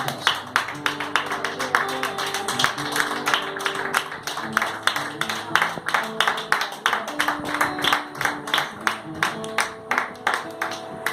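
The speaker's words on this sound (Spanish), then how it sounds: "Aleluya, dale un fuerte aplauso." A church congregation claps in a steady, even rhythm along with sustained music, the claps moderately loud and continuing for about eleven seconds.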